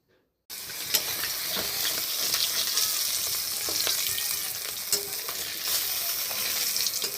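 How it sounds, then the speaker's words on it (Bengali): Fish frying in a pan, a loud continuous sizzle close by with scattered stirring scrapes and spatter, beginning abruptly after a brief silence. "মাছটা ভেজে নিচ্ছি"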